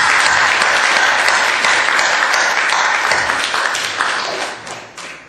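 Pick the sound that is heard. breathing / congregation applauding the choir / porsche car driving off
congregation applauding the choir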